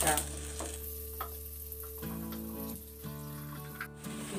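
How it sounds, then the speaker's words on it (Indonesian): Garlic, turmeric, candlenut and ginger paste frying in a pan, a steady close sizzle with occasional stirring scrapes and a faint trickle of added water, with no voices. "Digoreng sampai harum, kasih air sedikit, ditunggu, diaduk-aduk sampai merata bumbunya."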